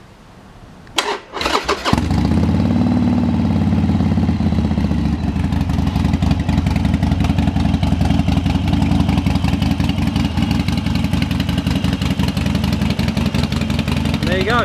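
A Harley-Davidson XL 1200 motorcycle fitted with Vance & Hines exhaust starts after a brief crank, then settles into a loud, close, loping idle that holds steady to the end.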